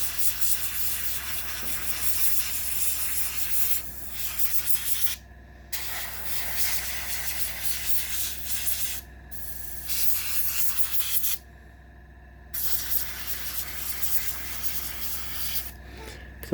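Primer sprays from an airbrush onto a 1/35 scale Takom Blitz StuH.42 model kit, a steady close hiss in bursts broken by several short pauses, fairly quiet with no talk.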